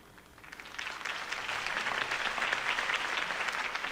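Crowd applause rising after a campaign speech, a steady dense wash of clapping that swells and holds loud for several seconds without voices.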